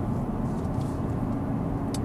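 Low, steady cabin rumble inside a moving Hendy Performance HP500 Ford Focus RS, a 520bhp tuned car, with road and engine noise constant throughout and a faint brief tick near the end.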